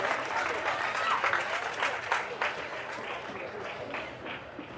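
Audience applause at a charity gathering rolls on steadily and fairly close throughout, with a voice talking over it.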